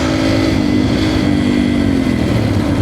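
A beginner's dirt bike engine revs with a loud, continuous buzzing drone while being ridden outdoors at sunset, holding a fairly steady pitch throughout, close to the listener and with no voices.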